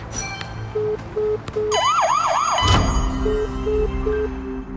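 A synthetic ambulance siren in a video game wails in rising-falling sweeps, preceded and followed by short electronic beeps, with a low rumble entering partway through.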